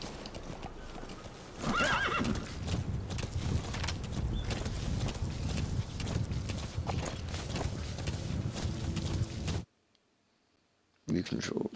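Hooves clip-clop rapidly as a horse gallops in the video game Metal Gear Solid V, a steady driving rhythm with a neigh early on, under someone talking, before a brief silent gap.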